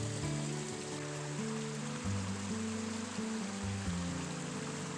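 Creek water at Moores Cove Falls in Pisgah National Forest runs in a steady, close rush and trickle. Low tonal hums and tones sit underneath, and no one speaks.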